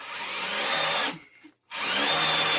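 A power drill drives screws into a wall while a studio light wall mount is installed, a loud steady whirring run, a brief pause of near silence, then another sustained burst, close up.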